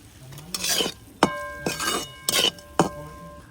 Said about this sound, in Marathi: आता त्यात आपण शेंगदाण्याचा कूट टाकून घेऊ